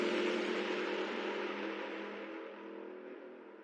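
Race car engine in a virtual racing video game, a steady loud high-pitched whine that holds and slowly fades over a few seconds, with no talking.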